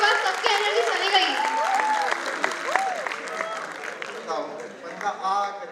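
Audience applause welcoming a speaker to the stage at a DevFest 2022 tech conference, a steady wash of clapping throughout, mixed with a voice talking over it.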